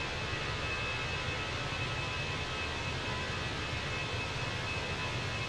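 Steady broadband engine roar of a simulated Fenix A320 jet taking off in Microsoft Flight Simulator, a constant loud rush with no talking.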